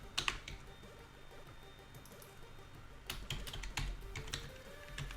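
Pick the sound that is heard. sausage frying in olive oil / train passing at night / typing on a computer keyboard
typing on a computer keyboard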